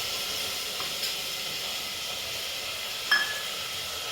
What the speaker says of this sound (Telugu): టమాటోస్ అయితే వేసేస్తున్నానండి